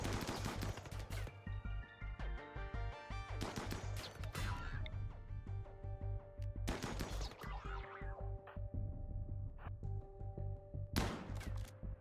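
Gunfire in the RimWorld colony game as raiders fire on the walls in a desert map: repeated bursts of rapid shots and crashing impacts over a steady low hum, loud and busy throughout with no talking.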